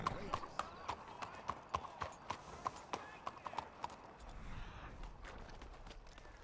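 Horse hooves clip-clopping in a regular walking rhythm, crisp and fairly close for about four seconds, then giving way to a low rumble, faint talk underneath.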